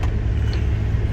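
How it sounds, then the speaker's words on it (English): A work truck with a 6.0 engine idles and runs close by, a loud, steady low rumble with a constant throb and no talking over it. "Let me start this work truck real quick"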